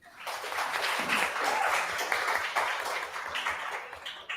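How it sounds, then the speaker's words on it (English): An award-recognition crowd claps for an undergraduate research honoree: a dense, steady wash of many hands from start to finish, fairly loud, with no break. "Can we get another round of applause for Inka?"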